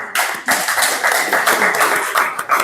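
Students in a sociology classroom break into applause, a dense, fairly close burst of many hands clapping that goes on steadily for a few seconds with no talk over it.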